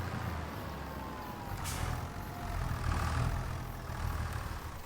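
A truck engine idles in Farming Simulator 25, a low steady rumble that swells slightly and eases across a few seconds, with a faint hiss and no voices.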